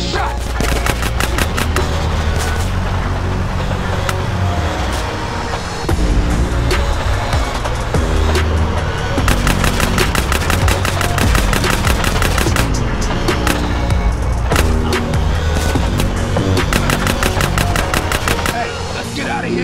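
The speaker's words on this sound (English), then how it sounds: "Roll up on them, CJ, so I can get a shot!" Dense, rapid automatic gunfire from a drive-by in the video game GTA San Andreas, loud and nearly continuous for the whole stretch, with machine-gun bursts layered over engine and music-like background sound.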